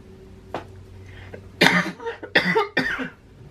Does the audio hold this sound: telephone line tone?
no